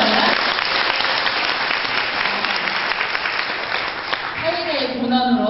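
A hall full of guests at a company year-end party claps loudly and continuously, dense applause filling the room while a host's amplified voice carries over it toward the end.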